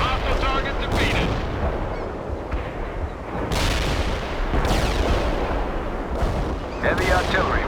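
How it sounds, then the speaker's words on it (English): Artillery strike in the real-time strategy game World in Conflict, a series of loud booming explosions and impacts with sharp bursts recurring every second or two over a rumbling battle background. "Artillery strike anywhere, sir. Firing at coordinates."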